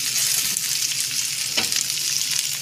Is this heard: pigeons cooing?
no